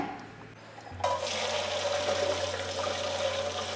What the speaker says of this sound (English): So make sure you rinse it with cold water pretty well.